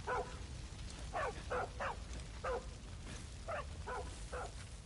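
Dog barking in the video game Far Cry 5, a series of sharp mid-range barks in short bursts, some paired, over a steady low rumble of in-game ambience with no talk.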